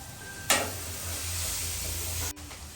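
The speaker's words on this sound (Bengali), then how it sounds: "আদাটা দিয়ে আমি একটু নেড়ে দেবো" Ginger stirred into vegetables boiling and sizzling in a pan, a soft steady hiss with a brief scrape of stirring at the start and a short clatter near the end, faint and close.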